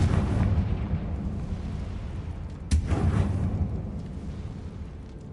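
A fiery Confringo spell explosion in the Hogwarts Legacy video game. A deep rumbling blast fades out, then a second sharp crack hits near the three-second mark and rolls into a booming tail.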